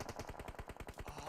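Rapid automatic gunfire during a firefight in the video game PUBG Mobile at a competitive esports match, a steady run of about a dozen evenly spaced shots, fairly quiet.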